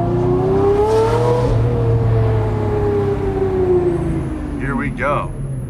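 A manual Lamborghini Murcielago supercar on a morning drive toward downtown during a rally: the engine drones loud and close as a steady tone, then revs rise and fall sharply near the end.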